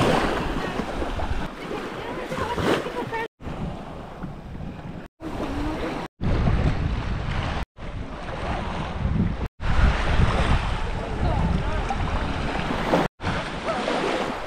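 Surf breaking continuously at a Mexican beach with some sargassum and clear water, with heavy wind buffeting the microphone; loud, steady roar broken by several brief dropouts, no voices.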